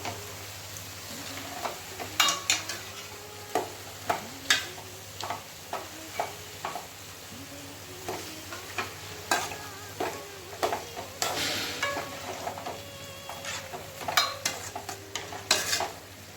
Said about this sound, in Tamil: குழம்பு வந்துட்டு கொதிக்கணும்